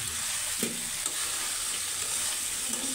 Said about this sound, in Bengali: ডাঁটাগুলো দিয়ে দিল, এখন নাড়াচাড়া দিয়ে দেবে